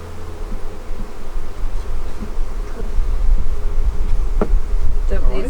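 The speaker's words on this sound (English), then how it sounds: "You want the bees moving slow." Honeybees swarm with a steady, loud buzz while a nuc hive is installed, a dense drone close by that holds throughout with faint handling noises and a brief sharp knock near the end.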